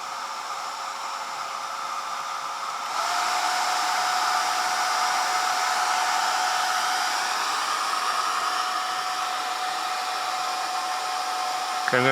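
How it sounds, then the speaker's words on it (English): A hair dryer powered by a Jackery Solar Generator 1000 Plus blows steadily at close range, its airy whoosh stepping up to a louder, higher setting a few seconds in and holding there. "I'm going to start off with the hair dryer first"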